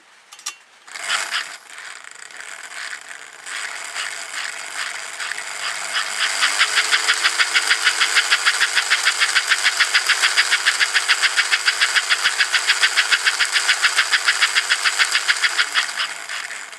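An American Flyer toy train locomotive motor whirs steadily with a fast rhythmic mechanical clatter, building up after a start and running evenly before winding down, close and fairly loud with no talking.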